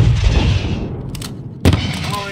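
Explosions and gunfire from a realism-difficulty tactical shooter during an embassy siege mission: a heavy boom rumbles loudly, then a sharp burst of shots cracks out near the end, with a voice talking underneath.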